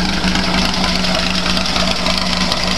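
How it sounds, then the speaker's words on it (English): An engine idles at low RPM while fed only from a hydrogen generator with the gas line disconnected, running as a loud, close, even rumble with a steady low hum and faint knocking. "You can run an engine, even at low RPM with hydrogen."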